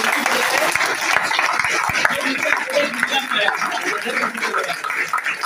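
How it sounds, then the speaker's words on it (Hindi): An audience at a meeting claps for an honoured guest, a loud, crowded patter of hand claps that goes on steadily while people talk over it. "ऐसे ग्रेट पर्सनालिटी के लिए मैं चाहता हूँ जोरदार ताली दें।"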